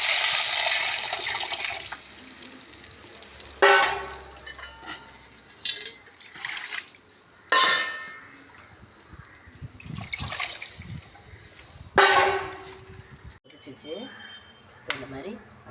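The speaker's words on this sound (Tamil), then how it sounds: "புளி கரைச்சிட்டு இப்போ அதை ஊற்றிடலாம்." Tamarind water is poured into a clay pot egg curry seasoned with turmeric and salt, a splashing pour at the start followed by intermittent sloshes and clinks of the pot.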